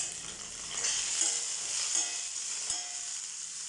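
Steady oil sizzle of eggplant (brinjal) frying in hot oil in a pan, a continuous crackling hiss with small pops, fairly close and with no voices.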